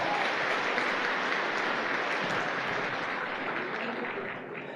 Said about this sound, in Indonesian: tepuk tangan buat yang baru-baru Bapak Ibu ya